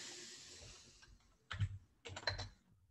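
Someone types on a computer keyboard in a web-based solar design tool: two quick clusters of close, soft key clicks separated by a short pause, quiet and with no voices.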